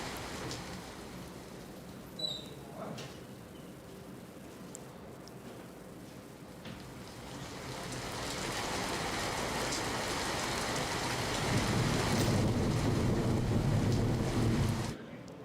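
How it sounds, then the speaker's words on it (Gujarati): Heavy rain pouring across an Ahmedabad neighbourhood beside the overflowing Mahalakshmi lake in Vatva, a dense steady hiss that swells louder toward the end, with wind buffeting the microphone. "ભારે વરસાદથી મહાલક્ષ્મી તળાવ ઓવરફ્લો થયું"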